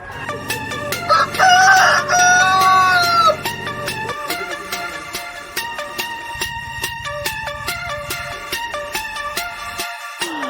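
Desi chickens and a rooster at a poultry farm in India: one loud, drawn-out crow near the start, then ongoing clucking and bird calls with sharp bursts of noise, close by and with no talking.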